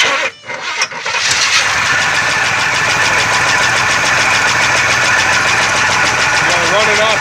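A C3 Corvette V8 cranks briefly, catches and settles into a steady, loud idle close by with a slight knock in its rhythm.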